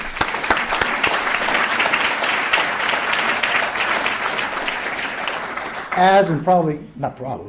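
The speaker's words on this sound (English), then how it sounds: "So let's give them a round of applause, please." An audience at a Safe Sports social event applauds steadily for several seconds, a dense sustained clatter of many hands, before a voice speaks as the clapping fades.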